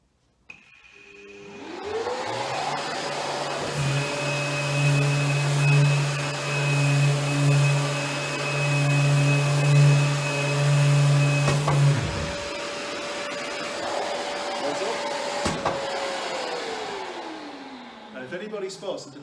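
A Festool sander spins up on rough wood and runs as a steady, fairly loud whine with a lower motor hum. It holds for about ten seconds, then winds down. Voices talk faintly underneath.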